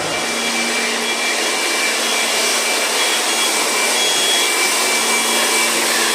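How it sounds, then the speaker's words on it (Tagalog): Air blower cleaning a fire detector during preventive maintenance on an FM200 fire suppression system: a steady, loud, continuous rushing of air that holds unbroken from start to end, with no talking. "Kailangan i-blower natin yung detector."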